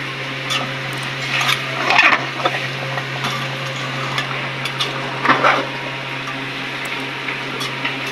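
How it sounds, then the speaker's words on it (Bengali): Potatoes fry in a pan as they are stirred, with scraping and clattering strokes in small bursts over a low, steady hum and gentle sizzle. "এখন আলু সহকারে ভালো করে কষে নেবে"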